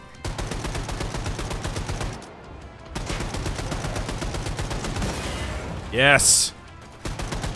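Gunfire from the video game Wolfenstein 2: The New Colossus, with bursts of shots and a sharp high-pitched weapon effect near the end, under steady game noise and someone talking throughout.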